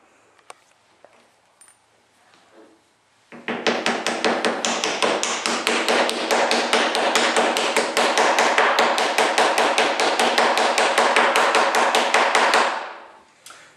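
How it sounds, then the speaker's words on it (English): A glued wooden inlay piece is tapped into its carved void: after a few quiet knocks, a long fast run of crisp, steady taps continues for about nine seconds, close and loud, then stops abruptly. "I'm going to place my inlay into there and gently push or tap it into place."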